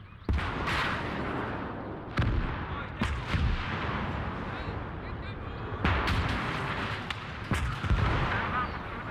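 Artillery bombardment in the World War II strategy game Call to Arms: Gates of Hell, with repeated heavy booming shots at irregular intervals over a rumbling battlefield, a voice talking through it.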